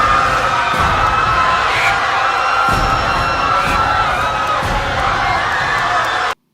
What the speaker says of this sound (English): a flying swarm sound, vulture sounds, and a panicked crowd